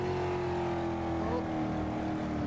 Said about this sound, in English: And that's an interesting sounding noise from that car.